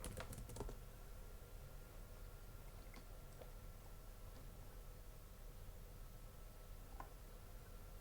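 Typing on a computer keyboard: a quick flurry of close key clicks at the start, then a few scattered taps over faint steady background hiss.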